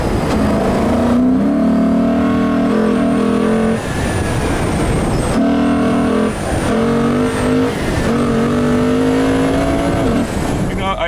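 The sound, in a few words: 2019 Lexus RC F V8 engine revving on track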